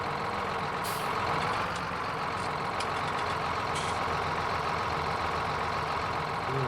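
Steady engine drone of a tractor pulling equipment in Farming Simulator 19, continuous and fairly even, with a few brief higher clanks and hisses along the way.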